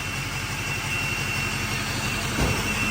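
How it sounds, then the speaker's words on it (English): A cheap, rough-built diesel engine revs hard up to its rev limiter and holds there, a loud, steady, gritty roar with pulsing low-end throb and a brief surge near the end, no talking. "Really gets up on that rev limiter pretty good."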